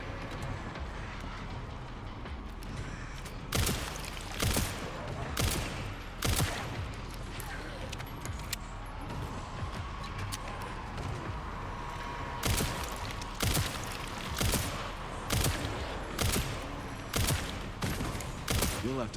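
Handgun shots in the Resident Evil Requiem video game ring out in spaced single bangs and short clusters over a low background rumble, with a voice talking quietly underneath.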